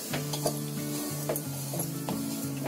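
Cashews, almonds and charoli stirred into roasted coconut in a pan, repeated scraping strokes of a spoon against metal with a light sizzle underneath, close and rhythmic, no talk.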